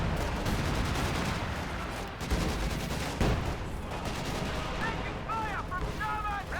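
Rapid gunfire and heavy tank cannon shots from a Company of Heroes 2 battle, dense continuous rumbling volleys with a sharp louder blast, while a commentator's voice speaks over the action.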